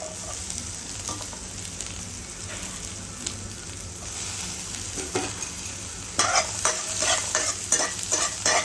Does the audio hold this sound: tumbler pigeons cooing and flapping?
no